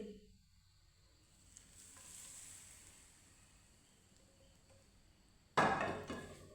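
Heated oil poured over amla pickle seasoned with black salt bursts into a loud sizzle near the end, after a long stretch of quiet low kitchen noise, then slowly fades.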